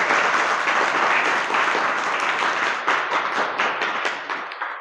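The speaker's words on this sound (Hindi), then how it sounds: "गुरुजी के लिए एक जोरदार ताली बजाकर स्वागत कीजिए" A crowd gives a guest guru a loud welcoming ovation at a children's values camp: dense, steady clapping from many hands that stays strong throughout and tapers slightly near the end.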